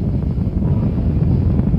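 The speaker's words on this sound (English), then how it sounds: "We have ignition. All engines are running." The Saturn V rocket engines at the Apollo 4 liftoff roar as a loud, continuous low rumble with wind-like buffeting, heavy and steady throughout, with no voices.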